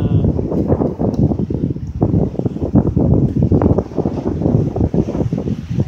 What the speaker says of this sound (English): It's windy out there.